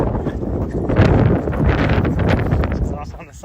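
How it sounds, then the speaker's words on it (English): Gusty wind buffets the microphone on a rainy mountain trail in a small gulch, a steady broadband rush with rustling that holds loud throughout, with faint movement beneath. "It's windy and rainy."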